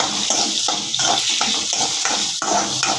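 Chopped onions with garlic sizzling in oil in a pan for a soya chunks gravy, a steady close crackling hiss with soft rhythmic stirring scrapes repeating about every half second, no voices.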